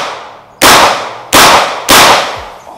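Three loud blank rounds fired in quick succession from an Umarex Colt M1911 front-venting blank-firing pistol, each a sharp, close crack with a short echoing tail, spaced under a second apart.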